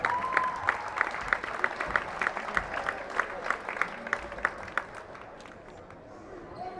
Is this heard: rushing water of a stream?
no